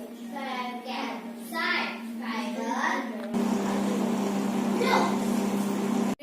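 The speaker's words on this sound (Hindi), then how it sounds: "अब हम इसे माइक्रोवेव कर लेंगे 4 मिनट्स के लिए।" A microwave oven cooking sabudana khichdi gives off a steady low hum, with a voice talking over the first half before the running drone carries on alone.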